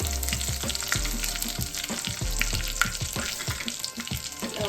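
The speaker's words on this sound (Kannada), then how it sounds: "ಸ್ವಲ್ಪ ಚಟಪಟ ಅನ್ನಲಿ. ಅದು ಈಗ ಕರಿಬೇವು ಹಾಕ್ತಾ ಇದ್ದೀನಿ." Curry leaves spluttering in hot oil while vegetable upma is prepared, a loud, steady sizzle with dense crackling pops and sputters throughout, close up with no talking.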